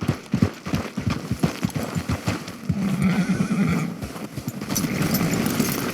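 Horses neigh and whinny over the clatter of hooves in the Red Dead Redemption 2 video game, a loud burst of snorting calls and clip-clop footsteps followed by a steadier galloping rumble.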